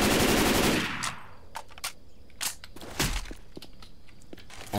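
Rifle fire from a Left 4 Dead 2 gun mod: an opening roaring burst, then scattered sharp shots and clacks at irregular intervals, moderately loud with no talking.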